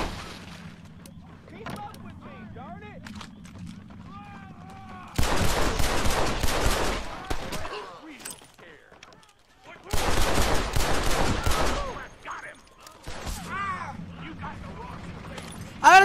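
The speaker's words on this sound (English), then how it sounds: "they're all shooting at me in synchronization. It's like I'm taking 4 bullets per second." Video game gunfire in Red Dead Redemption comes in two dense, loud bursts of rapid shots, separated by quieter stretches of game ambience and scattered sounds.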